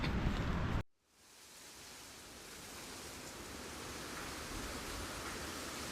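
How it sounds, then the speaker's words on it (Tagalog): Rain falls steadily at a hiking campsite, a soft even hiss of drops on surfaces that drops out briefly after a rustle, then resumes and holds constant, with no one talking. "It's raining right now."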